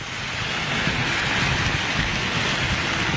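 Steady rain falls at London Heathrow airport, a dense, even hiss that holds level throughout with no voices or other distinct sounds.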